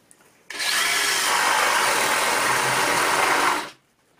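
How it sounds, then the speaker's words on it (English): A power drill drives a spade bit through timber, one steady loud whine lasting about three seconds, then stopping, close by with no talk. "I'm going to start drilling through."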